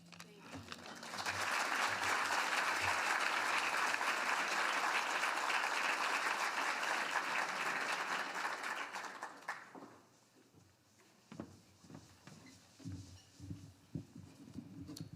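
An audience at a Women's History Month luncheon gives sustained applause for an award recipient, full and loud for about eight seconds before cutting off abruptly into quieter room noise and scattered sounds.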